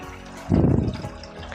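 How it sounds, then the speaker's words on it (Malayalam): Plain water poured into a container holding orange peel for a homemade vitamin C serum, a short close splash and gurgle of about half a second with no talking. "വെള്ളം ഒഴിച്ചു കൊടുക്കാം."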